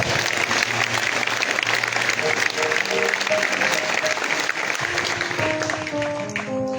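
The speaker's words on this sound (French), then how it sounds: "Jésus-Christ de Nazareth, que je voudrais qu'on acclame encore très très fort" A church congregation at an evening praise service breaks into sustained, loud applause that fills the room. Sung or spoken tones carry faintly under the clapping.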